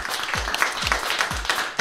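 Applause in a French radio studio during a Téléthon broadcast, a steady patter of clapping from a small group lasting under two seconds, with low thumps recurring beneath it.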